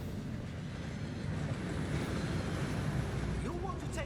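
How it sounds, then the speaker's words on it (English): A waterfall rushes steadily and loudly inside the Gringotts vaults in the video game Hogwarts Legacy, a continuous broad roar of falling water that holds for the whole clip. "That waterfall washes away all enchantments. It's a security measure."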